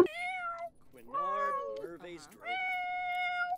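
A cat sings in melodic, drawn-out meows in a video game, three tuneful phrases in a row, close and clear with no talk over them.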